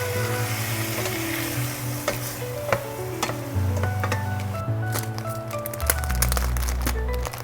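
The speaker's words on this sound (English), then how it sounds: "Give this a good stir." Seasoned tomato orzo is stirred in a hot pan, a steady sizzle under scraping and clinking of a spoon against the pan, close and busy, with a faint hum in the background.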